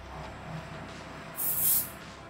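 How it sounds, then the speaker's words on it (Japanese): Hair spray misted onto lifted curls during a fringe styling, a short soft hiss rising in the middle over quiet background noise. "カールを少し持ち上げて内側からスプレーを振っていきます。"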